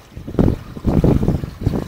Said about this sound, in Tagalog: Lakas ng hangin, Boss Amir.